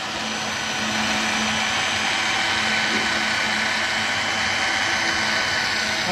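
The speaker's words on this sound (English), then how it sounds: "We are moving X-axis motor. Then X-axis will be moving." Low-cost microcontroller-based 3-axis CNC milling machine with its X-axis motor running, giving a steady, even whine and hum that holds at a constant level throughout, with no talk.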